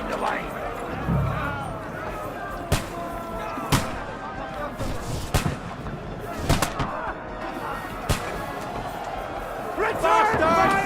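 Scattered sharp gunshot cracks and thuds ring out in a medieval battle in the game Kingdom Come: Deliverance 2, mixed with shouting voices and general commotion.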